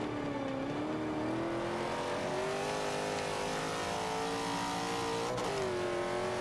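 A 1970 Z28 Camaro in the racing game Forza 5 drones at a steady, high, continuous engine pitch as it drives at speed, loud and unbroken, with a small dip in pitch partway through.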